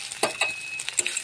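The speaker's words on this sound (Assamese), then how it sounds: "দেখিছেনে মই গেছটো কমাই লৈ একেবাৰে কম জুইত লাহে লাহে ভাজি আছোঁ" Night jasmine flowers coated in rice flour fry in oil over a low flame. The frying is soft and faint, with a few light crackles and stirring clicks over a quiet background hiss.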